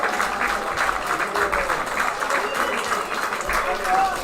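Crowd at a Heartland Championship rugby match between Thames Valley and Buller applauds for a player, a moderate steady clapping heard from a distance, with talk over the top.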